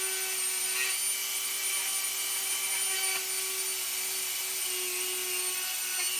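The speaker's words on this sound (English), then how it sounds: "Gonna have to use the other drill bit to make this bigger," A loud, steady high-pitched whine of a drill running continuously at close range, with no pauses and no voices.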